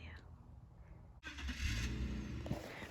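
A BMW car engine that had broken down cranks once and catches. After a brief starter whine it settles into a steady, close rumbling idle.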